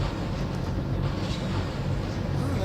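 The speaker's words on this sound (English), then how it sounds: "I love watching the train go by. I'm guessing this is an empty mixed freight." Freight train in the Trainz A New Era railroad game rolls past with a steady, loud broadband rumble and low rail drone that continues throughout without a break.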